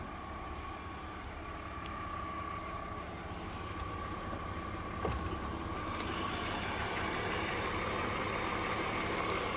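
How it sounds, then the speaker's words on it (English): A 2002 BMW 325Ci engine idling with the hood open, a steady, smooth mid-pitched hum heard up close, with a light click near the middle and a slight rise in level toward the end. "Engine's quiet, smooth, runs great."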